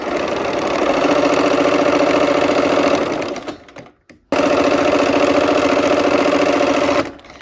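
A sewing machine runs steadily as it stitches fabric, with a larger piece on the bottom being eased in. The whirring is loud and continuous, stops briefly near the middle, then starts again at full speed and carries on to the end.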